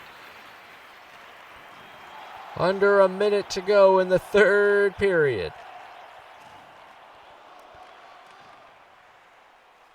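A hockey arena crowd in the video game NHL 24 roars and cheers under an excited commentator, with a loud, sustained horn-like blast rising over the noise partway through.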